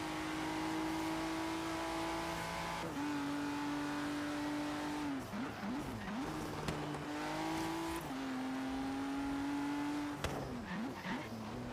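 Race car engine screaming at around 250 mph in the Forza racing game, a loud sustained high whine that dips and climbs through several gear shifts, with brief tire squeal between them.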